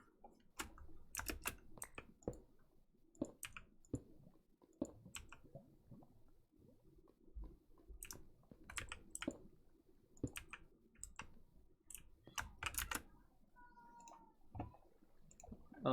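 A computer keyboard is typed on in quick, irregular bursts of soft clicks with short pauses, faint and close in a quiet room.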